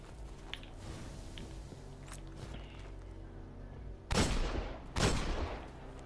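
Gunfire in the video game Destiny on PS4: quiet scuffling game sounds, then two loud, sharp shots about a second apart, each with a rumbling tail.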